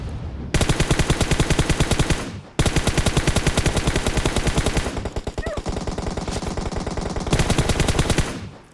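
Loud, rapid automatic gunfire in a video game rattles in long sustained bursts with brief pauses between them, close and dense.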